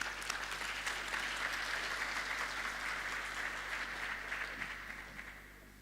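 Sustained audience applause at a conference closing ceremony, a dense steady wash of clapping that stays level for several seconds before gradually thinning out toward the end.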